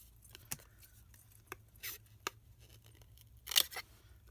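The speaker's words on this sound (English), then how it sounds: "I just take my long scissors, and in one snip I just snip that end off" Long scissors snip through ribbon, with a handful of sharp, isolated cutting clicks and rustles spread across a quiet room, the loudest snip coming near the end.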